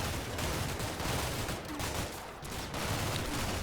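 Sustained gunfire from a building in the Combat Mission Shock Force 2 war game, a dense continuous fusillade of overlapping rifle and machine-gun shots with no pauses, loud and close throughout.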